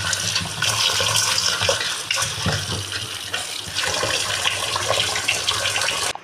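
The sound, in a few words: water poured to rinse soaking rice and lentils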